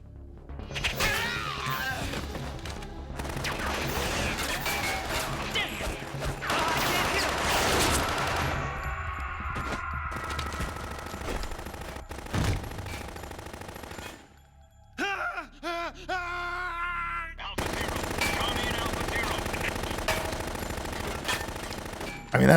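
Rapid bursts of gunfire from the Metal Gear Solid 2 video game, loud automatic volleys with crashes and impacts, broken by short pauses and quieter gaps before firing resumes.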